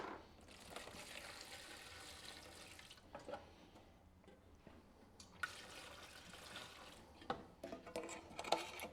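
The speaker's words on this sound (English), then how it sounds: "So we'll get that poured in and get this thing cleaned up of all the oils and residue" Acetone is poured into a spouted metal container for cleaning oils and residue: faint, quiet trickling and splashing liquid in uneven bursts, with a few small clinks and drips.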